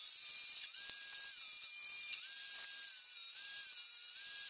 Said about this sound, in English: but I'm gonna rip it down on the table saw.